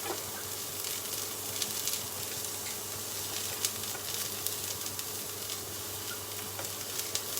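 Cabbage and other vegetables sizzle steadily in a pan as they are sautéed for manchow soup, a constant, fairly quiet crackling hiss with small pops, and no voices.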